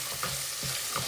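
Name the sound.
sambar cooking in a pot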